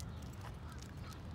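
Ducks quack faintly at a waterfront in Washington, DC, a short soft burst of honking calls set back from the microphone.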